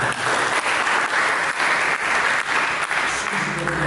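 Dense, steady applause from a church congregation at a Sunday service, loud and sustained throughout with no break.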